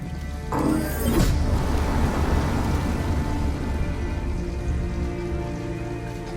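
Heavy rain pours steadily in the Detroit: Become Human video game, a dense, continuous hiss of drops hitting surfaces, with a brief brighter swish near the start.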